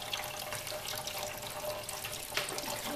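A rainfall simulator sprays water onto a soil plot during a water infiltration test, giving a soft, steady patter and trickle at low level, continuous with no one speaking.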